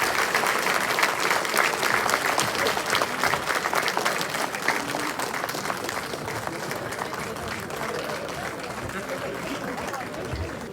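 Loud, sustained applause from an audience thanking a minister at a CSS Day 2023 event at the Ambedkar International Centre in New Delhi, with steady clapping filling the whole stretch and crowd chatter underneath.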